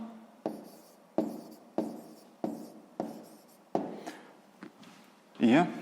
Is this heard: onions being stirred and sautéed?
no